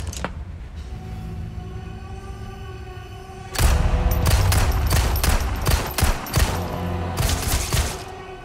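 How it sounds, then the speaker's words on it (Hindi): Gunfire in Resident Evil 4 during its ending sequence: a quiet stretch, then heavy bursts of repeated shots with thuds that keep going loud and close. "गोलियों से कुछ फर्क नहीं पड़ रहा इसको।"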